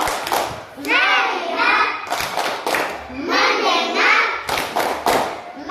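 A classroom of schoolchildren doing a rhythmic focus clap, sharp hand claps in quick patterned bursts mixed with the children chanting words in unison, loud and close.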